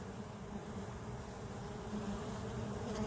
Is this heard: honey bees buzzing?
yes